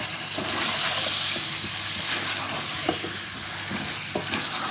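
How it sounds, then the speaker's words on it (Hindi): Potato and capsicum cooking in a pan over medium heat, a steady near sizzle broken by repeated scraping stirs. "अब इसको थोड़ा सा और पकाएंगे मीडियम आंच पे।"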